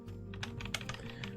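Fast bursts of keyboard hotkey presses while playing Age of Empires 2, close clicking keys in quick clustered taps over a low steady hum.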